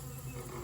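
Bees at a hive feeding station filled with pollen and sugar water make a soft, continuous buzzing hum, faint and close, with no voices over it in a very brief stretch.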